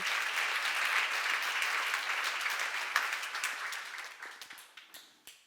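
An audience at a seminar breaks into applause, a dense wash of clapping that thins into a few scattered individual claps before stopping.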